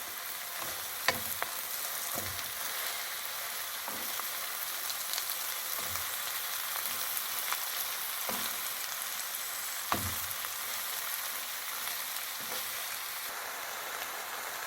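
A kilo of fresh spinach sizzles and fries in a pan, a steady close hiss broken by occasional stirring knocks and scrapes, with no talk.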